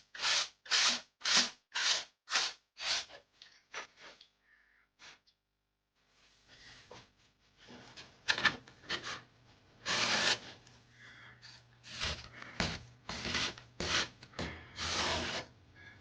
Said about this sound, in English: I'm just going to sand down a bit more and get the finish even better